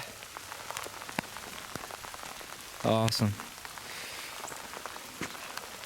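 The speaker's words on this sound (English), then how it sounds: "It's raining." Rain falls steadily outdoors during a deer hunt, a soft continuous patter with scattered drops. Someone speaks briefly over it.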